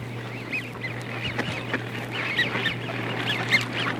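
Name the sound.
mallard ducks gabbling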